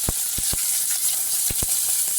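Cinnamon, cloves and fennel seeds with onion frying in hot oil for a Tamil tomato kurma, a steady close sizzle broken by a few sharp stirring clicks, with no talking.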